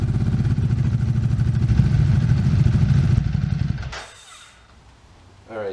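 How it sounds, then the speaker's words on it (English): Ducati Hypermotard engine idling to warm up while parked on a rear stand, a loud steady throbbing rumble that cuts off near the end, followed by quiet and a brief clatter. "you just need to turn the bike on and let it run"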